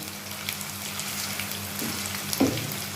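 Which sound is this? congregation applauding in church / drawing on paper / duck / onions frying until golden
onions frying until golden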